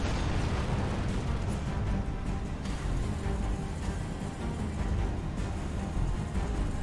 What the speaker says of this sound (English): I don't know why they're still shooting at that.